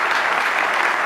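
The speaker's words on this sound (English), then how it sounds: "Round of applause for them as well." An audience at a hall of fame induction ceremony breaks into a steady, full round of applause for the inductee's parents, close and continuous.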